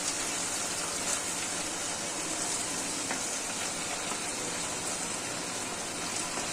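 Potatoes and pointed gourd hit a hot pan of fried spices for a Bengali curry, setting off a loud, steady hiss and crackle of frying that fills the clip, close and continuous without any speech.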